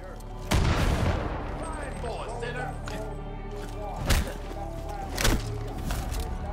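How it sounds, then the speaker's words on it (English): A proximity mine blast in the video game Far Cry 5 booms out, followed by several sharp bursts of gunfire spaced a second or so apart, loud and close, with low rumble underneath. "I heard the mine go off"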